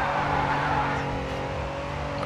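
A race car in Grid 2 brakes hard, tires skidding with a steady tonal squeal over a loud, continuous engine roar.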